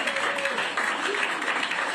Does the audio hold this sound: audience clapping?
yes